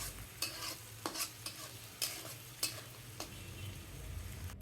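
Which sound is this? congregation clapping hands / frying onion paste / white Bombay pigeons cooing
frying onion paste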